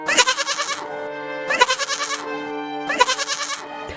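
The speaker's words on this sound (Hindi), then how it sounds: "अचानक मेरे मुंह से बकरी की आवाज आने लगी" A goat bleats loudly and close in three long, wavering, nasal cries separated by short pauses.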